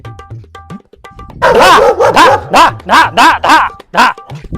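A dog barks loudly and close by in a rapid series of about eight sharp barks, preceded by softer whimpering yips.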